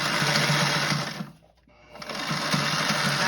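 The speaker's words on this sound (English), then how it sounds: "continue on sewing right over the top of everything" Sewing machine stitching through thick hinged cockpit cushion fabric, a loud steady mechanical whir that slows and stops briefly in the middle, then resumes at full speed.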